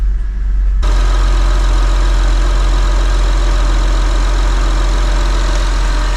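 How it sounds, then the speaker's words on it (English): A 2004-2008 Acura TL 3.2 VTEC engine idles steadily up close, with a constant mechanical whirring hum from the faulty alternator layered over the low rumble, unchanging throughout. "There's a whirring noise coming from the alternator right here."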